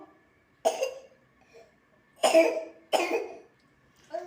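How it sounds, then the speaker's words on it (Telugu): A child coughs three times, sharp and close, with quiet gaps between, then a fainter fourth cough at the end. "బాబుకి అయితే ఇంకా దగ్గు బాగుంది, తగ్గలేదు దగ్గు అయితే"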